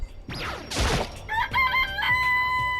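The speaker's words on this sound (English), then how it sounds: "It's a chicken." A chicken in the Danganronpa video game gives a short squawk, then a loud close crow with clear rising and falling tones, followed by clucks.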